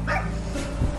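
A dog gives one or two short, close barks and yips indoors, loud against a muffled background with no talk.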